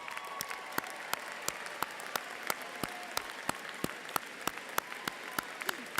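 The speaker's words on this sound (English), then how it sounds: "I ask that you stand for a special round of applause." A university commencement crowd applauds, heard from a distance and fairly faint. The clapping is steady and scattered, with sharper individual claps standing out above the wash.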